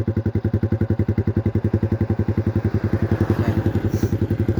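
A Yamaha Sniper 155 motorcycle with an SC Project open exhaust pipe and no remap idles close by, a loud, steady, rapid thumping pulse that rises slightly near the end.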